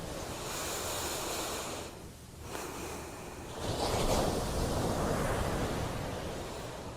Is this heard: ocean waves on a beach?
yes